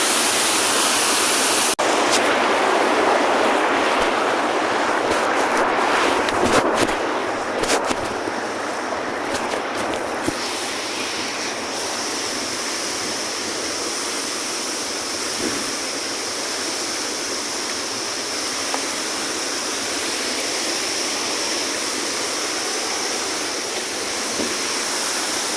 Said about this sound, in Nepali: कम्मर नदीको छाल हेर्नु होला कति छल्केको छ